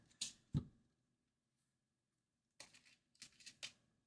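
A deck of trading cards is riffled and cut by hand in quiet surroundings, a couple of quick papery bursts, then a pause before a run of short crisp riffles.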